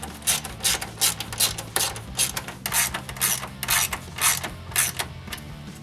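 A ratchet with a 10mm socket drives a bolt back into the stock mount while installing a cold air intake on a 2006-2010 Dodge Charger 3.5L, giving steady, close rapid clicking in repeated bursts.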